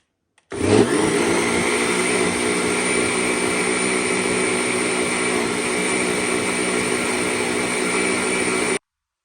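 An electric mixer or blender mixes pancake batter with Ceylon cinnamon, starting abruptly and whirring loudly and evenly for about eight seconds before cutting off.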